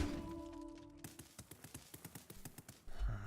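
Horse hooves clip-clop as a cavalry card plays in the Hearthstone video game: about a dozen quick, even clops in a galloping rhythm, ending with a louder thump.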